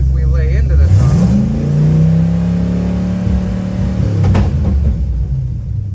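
A 1970 Ford's engine rises in pitch as the throttle is pressed, a close, loud rev building over a steady rumble, with someone talking during it.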